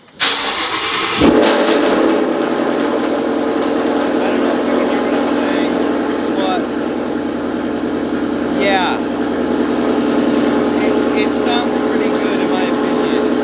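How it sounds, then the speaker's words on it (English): A Ford Mustang fitted with a Roush cat-back exhaust fires up from cold with a loud, sharp bark, then settles into a steady, rumbling idle close by for the rest of the stretch. "Here is a cold startup on the car. Cold startups with a Roush exhaust are very, very brutal."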